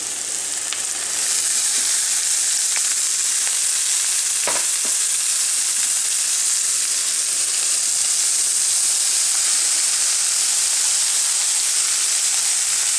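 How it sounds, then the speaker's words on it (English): Mixed vegetables saute in a hot pan with a steady, loud sizzle that fills the whole stretch. A few faint clinks of stirring sound early on, and there is no talking. "And saute this. Add all these veggies."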